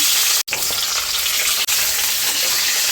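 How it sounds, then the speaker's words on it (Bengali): Nigella seeds sizzle and crackle in hot oil, a loud continuous hiss broken by two brief drops in sound. "এই যে কালো জিরে ফোড়ন দেবো"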